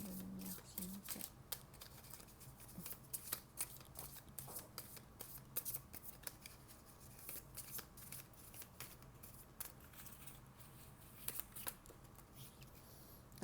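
Tarot cards being shuffled by hand, soft repeated riffling and flicking at close range, faint and steady, with someone speaking quietly in French now and then.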